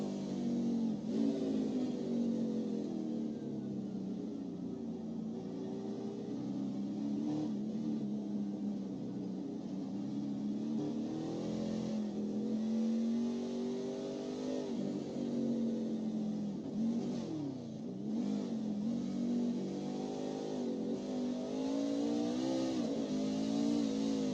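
A high-revving race truck engine in the iRacing video game drones continuously and loudly, its pitch rising and falling with throttle changes, with no speech.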